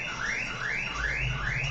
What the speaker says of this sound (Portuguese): Ó, tem um cara com alarme